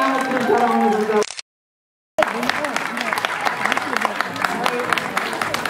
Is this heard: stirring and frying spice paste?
no